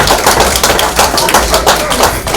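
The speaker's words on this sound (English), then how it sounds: "Round of applause, please." A round of applause from a birthday party crowd, a dense steady patter of many hands clapping close and loud for a couple of seconds.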